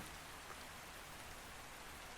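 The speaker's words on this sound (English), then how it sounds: "Oh, and it's raining too" Steady rain falls in the video game Ark Survival Ascended on The Island map, a continuous even hiss with dense patter across the whole span and no voices.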